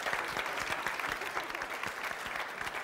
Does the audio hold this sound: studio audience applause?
yes